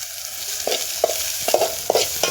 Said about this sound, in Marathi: थोडासा लाल होतपर्यंत आपण हलवून घेणार आहे कांदा